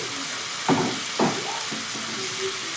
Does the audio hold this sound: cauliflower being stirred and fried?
yes